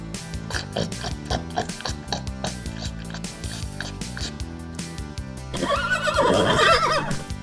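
A horse whinnies loudly near the end over busy, rhythmic music, with faint clip-clop-like beats throughout.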